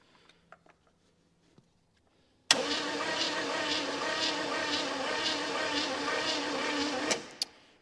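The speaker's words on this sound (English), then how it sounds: "We'll do a compression test on all 8 before I try to fire it up here" A 1969 Chevrolet El Camino V8 with low compression cranks on the starter for about five seconds during a compression test. It gives a steady, loud, rhythmic whirring churn that starts abruptly after a few faint clicks and stops sharply.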